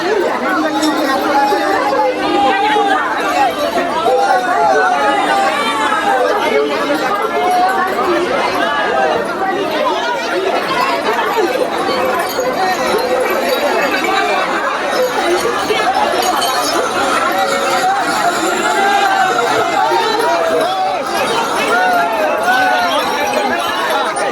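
Huge crowd of pilgrims pressing through the Sheoraphuli station rail gate on the Tarakeshwar yatra, a dense, steady roar of many voices chattering and calling, loud and constant throughout.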